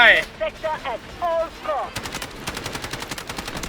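Rapid automatic gunfire from the video game Delta Force, a fast steady burst after someone speaks over the start, loud and close.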